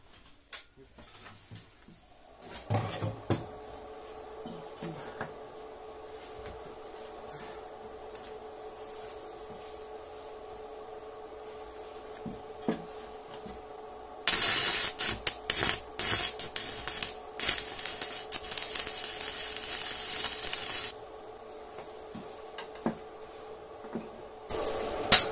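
Seam welding with an electrode holder made from an old drill chuck: after a faint electrical hum and scattered handling noises, a harsh crackling arc hiss runs for several seconds, then cuts off.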